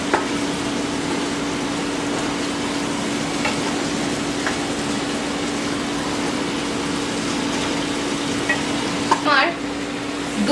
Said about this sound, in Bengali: 2-3 মিনিট টমেটোটা ফ্রাই করা হয়ে গেছে।